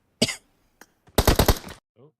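Quick bursts of coughing heard during a PUBG Mobile match, a short sharp cough followed by a denser rapid cluster of coughs, close and fairly loud, with a faint voice trailing after.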